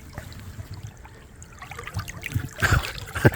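Flowing water of the River Nith during a winter grayling fishing trip, a gentle trickling babble that grows louder and more splashy toward the end, with no talk.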